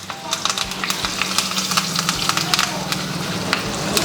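Mustard seeds sizzle and crackle in hot oil with fenugreek seeds added, rapid irregular pops over a steady frying hiss, close by, while rasam is prepared.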